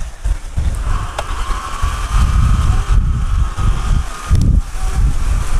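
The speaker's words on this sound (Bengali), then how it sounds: "প্রচণ্ড বাতাস হচ্ছে" Strong outdoor wind buffets the microphone in loud, continuous low rumbling gusts, with a faint engine-like hum carrying through during a drone flight.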